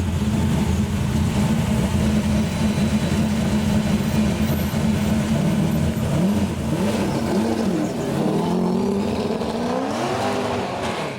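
A 1970 Plymouth Superbird tribute racer with a 358 cubic inch NASCAR-spec V8 of over 750 horsepower roars continuously and loudly, holding a steady drone before climbing and falling through several rising revs near the end.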